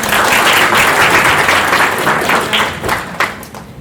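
Audience at the UbuCon Korea 2025 conference claps to welcome a speaker to the stage, a loud, close burst of dense applause that thins out and tapers off toward the end.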